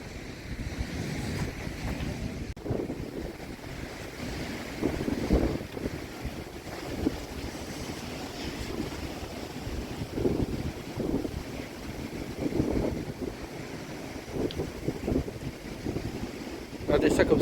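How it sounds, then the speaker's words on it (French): Sea waves wash onto the shore at sunset, a low, rolling surge that rises and falls under steady wind noise on the microphone. "Et les vagues sont sympas"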